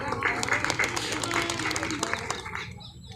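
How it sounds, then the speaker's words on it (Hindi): Crowd claps at an outdoor farmers' protest rally in a village, a steady roll of applause with some background voices that fades out near the end. "एक बार जोरदार तालियां हो जाए।"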